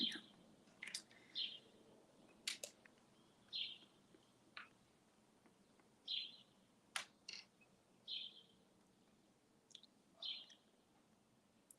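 Birds outdoors calling in short, bright chirps that repeat every second or so against a quiet background, with scattered sharper tweets.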